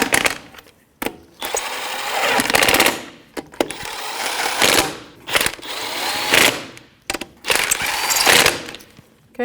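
Ratchet with a 19mm socket snugging wheel lug nuts on a 2007-2017 Jeep Patriot, in repeated bursts of fast clicking ratcheting separated by short pauses, loud and close.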